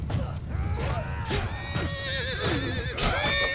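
Horses whinny and neigh repeatedly in a cavalry battle in the video game Mount and Blade II Bannerlord, several calls rising and wavering close by over hoof clatter and battle noise.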